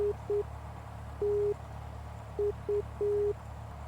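Morse code station identifier of the Strumble VOR tuned on the nav radio in X-Plane 11, a clean steady tone keyed in short and long beeps over a low engine drone, with no one talking.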